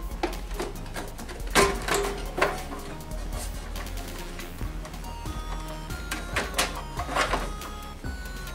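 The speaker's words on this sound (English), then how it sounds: "the next step is to go ahead and just take the top cover off" Top cover of a VCR lifted off from the back after its screws are out, giving a few close plastic-and-metal clunks and scrapes with light rattles in between, fairly quiet and alone.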